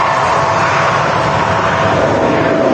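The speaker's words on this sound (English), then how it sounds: "Tui, departing second runway, going down to Preveza." A Tui airliner departing the runway at Manchester Airport, its engines roaring steadily and loudly throughout as broadband jet noise, close by and alone, with no talk.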